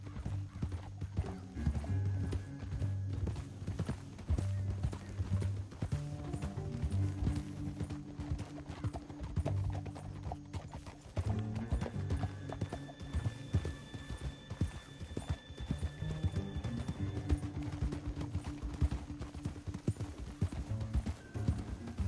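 A horse's hooves clip-clop steadily in the Western video game Red Dead Redemption 2, an even walking rhythm running throughout over a dense, continuous background of game music and ambience.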